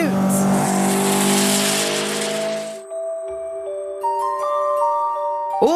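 A Peugeot 205 GTI with track-spec brakes runs hot laps on a circuit, its engine loud and close, revving hard through a rising run of gears before easing into steadier tones.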